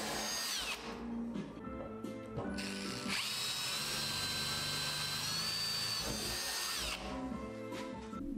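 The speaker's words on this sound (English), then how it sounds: "And I drilled the holes with a 4mm bit." A power drill fitted with a 4mm bit bores holes through the lid of a workshop dust cyclone separator. The whine runs steadily and loud, dipping briefly between holes, with no talking.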